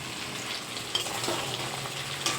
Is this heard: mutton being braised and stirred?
yes